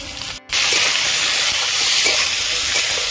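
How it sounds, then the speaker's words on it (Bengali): Cauliflower dropped into a hot pan with half-fried egg, a loud, steady sizzling hiss that breaks briefly then surges up and holds, close by with no talking. "এবার আমি ফুলকপিগুলো দিয়ে দেবো।"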